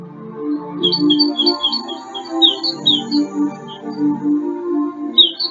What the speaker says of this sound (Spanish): Siempre están ahí sus trinos o sus graznidos.